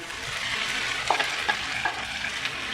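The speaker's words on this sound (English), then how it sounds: "mix the curry leaves well with the rest of the masala. And also add the fried shrimp." Curry leaves and fried shrimp being stirred into a sizzling Kerala-style prawn masala, a steady hiss of frying overlaid with a few distinct scraping strokes of the spoon, close and alone.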